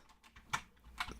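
A Linux terminal command being typed on a keyboard, a handful of soft, close key taps with two louder clicks, brief and quiet with no talking.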